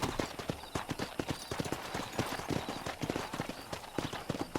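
Horse hooves clip-clop in a quick, steady trotting rhythm in Red Dead Redemption, close and clear, with no talking.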